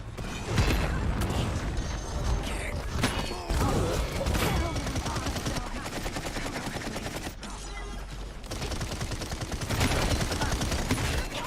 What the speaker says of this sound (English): Can't think with all these bullets going off.